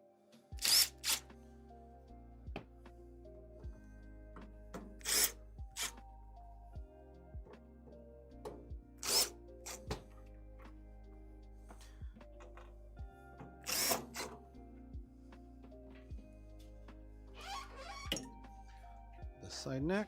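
A power drill backing out the side screws of a Skywalker V1 coffee roaster, short whirring bursts repeated several times with pauses, close up, alongside metallic clinks and faint talking.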